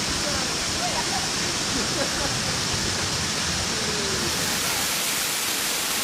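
The Po'oi waterfall, among the tallest in its area, roars in a constant, dense rush of water, loud and unbroken from start to finish.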